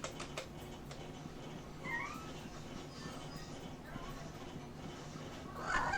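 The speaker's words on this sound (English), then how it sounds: "The immersion breaking cat." A house cat meows faintly a few times, with short high chirping calls at about two seconds and again near the end, over a steady low background hum.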